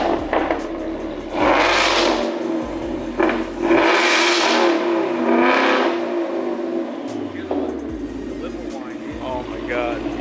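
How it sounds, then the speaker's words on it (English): A supercharged 2019 Ford Mustang GT engine revs several times, rising and falling in loud swells over a steady idle rumble, while people nearby talk and react excitedly. "Do you wanna give it a couple revs?"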